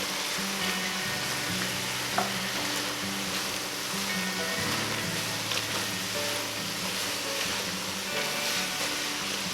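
Chili mixture seasoned with cayenne pepper sizzling in a pot while being stirred, a continuous close frying hiss with occasional scraping and clacks of the spoon, no voices.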